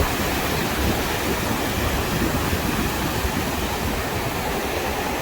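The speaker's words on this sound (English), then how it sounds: "Here is the ocean right next to the campground." Ocean waves and wind on a windy evening beside a campground make a loud, continuous broadband roar that stays steady throughout, with no talking over it.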